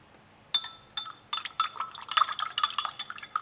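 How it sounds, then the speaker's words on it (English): Cyclohexanone being stirred into an aqueous filtrate in laboratory glassware, bright clinking and tinkling of a stirrer against glass with liquid sloshing, starting abruptly and continuing in quick irregular bursts. "Now let's stir this up."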